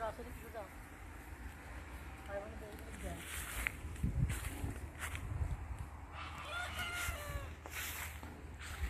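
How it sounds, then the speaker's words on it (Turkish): Roosters crow on a rural village homestead, faint and somewhat distant, under ongoing talk with footsteps and background noise. "Bak horozlar ötüyorlar, gördün mü anne?"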